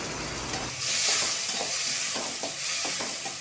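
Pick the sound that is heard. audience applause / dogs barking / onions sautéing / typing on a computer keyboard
onions sautéing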